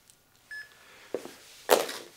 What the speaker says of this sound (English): Let me go ahead and get my timer started here.